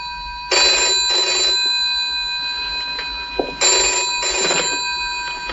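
A telephone bell rings loudly in two long double-burst rings with a pause between, the classic old-style bell trill heard close in a quiet room.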